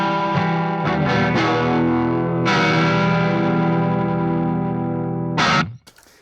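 Electric guitar played through an EarthQuaker Devices Aqueduct vibrato pedal in envelope-controlled mode, sustained chords with effected, wavering tone, loud and continuous, ending with a brief stab and cutoff.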